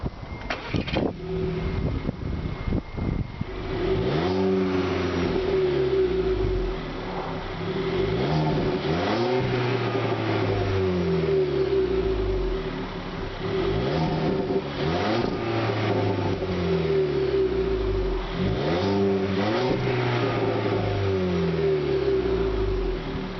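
A 2012 Volkswagen Beetle engine revs up and down repeatedly through gears, with a faint high turbo whistle riding over the engine drone.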